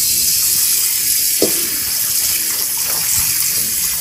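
Tap water gushes steadily and close up while a Japanese Tsubame-Sanjo Summit nitrided iron wok is washed in a kitchen sink, with brief splashes and knocks as the pan shifts under the stream.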